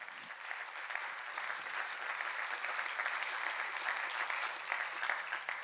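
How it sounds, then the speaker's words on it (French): Steady, distant-sounding audience applause in a conference hall, a continuous wash of many hands clapping at an even level with a faint background hum. "Je pense qu'on peut l'applaudir encore."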